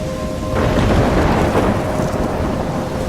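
A thunderstorm in the video game Life Is Strange: heavy rain roars steadily as a deep rumble of thunder swells in after a moment and keeps rolling, loud and close, with no voices.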